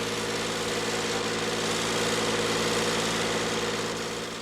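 A tractor engine on a Turkish farm idles with a steady, close, low mechanical rumble and a faint knocking throb that holds evenly throughout.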